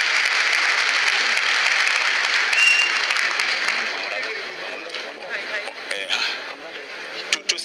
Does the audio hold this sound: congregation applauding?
yes